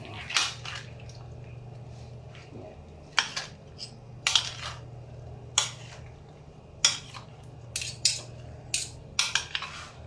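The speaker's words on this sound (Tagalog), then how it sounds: "Hahaluin lang natin siya hanggang sa ma-mix lahat ng ingredients natin" Salad ingredients tossed and stirred in a bowl, giving repeated light clinks and scrapes of utensils against the bowl, irregular and close, over a low steady hum.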